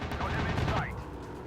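Aircraft machine-gun fire in the WW2 dogfight flight game Warplanes, a rapid burst of shots over steady engine drone lasting about a second before fading back to the plane's hum.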